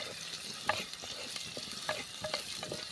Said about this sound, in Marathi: कांदा आपण चांगला गुलाबी रंग येईपर्यंत परतून घेऊया